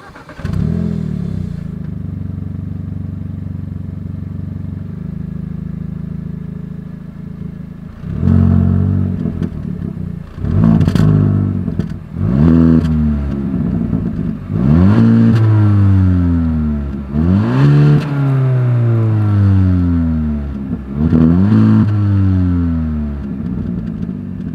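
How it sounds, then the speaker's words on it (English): A 2021 Hyundai Elantra N Line exhaust idling steadily, then a series of loud throttle blips that rise and fall in pitch, repeated in close succession with brief drops back toward idle. "As always, here is that exhaust clip."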